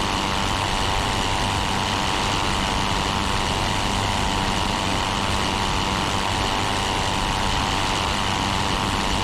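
The engine of a Pfalz E.II aircraft climbing in the WWI flight game Rise of Flight: a loud, unbroken droning roar that holds steady throughout, with no talking.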